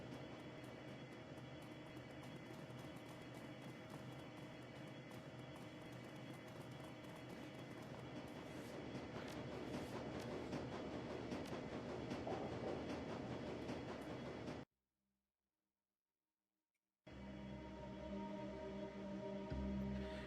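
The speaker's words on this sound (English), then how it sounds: "Your head screeching, sound steel on steel, and train grinds to a halt." Train grinding to a halt with steel on steel, a loud sustained rumbling roar that runs for about fifteen seconds, cuts out to silence, then resumes briefly.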